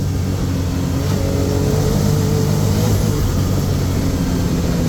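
A Can-Am Maverick R X side-by-side accelerates on a forest trail, its engine droning loud and steady with a rising mid-range hum throughout, no talk over it.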